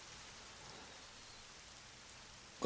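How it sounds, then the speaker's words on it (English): Soft, steady rain patters in the Lost Odyssey video game, faint and continuous, before a brief louder burst cuts in at the end. "Oh, great. It's raining."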